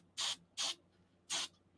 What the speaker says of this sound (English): And we're just going to give this a quick coating in hairspray.